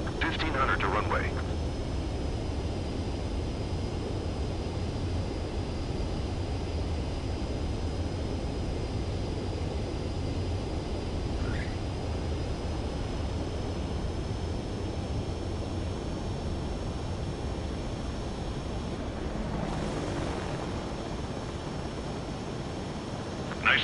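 A jet aircraft on landing approach in the Ace Combat 7 video game hums with a steady, continuous engine roar and faint whine throughout, with brief radio-style blips.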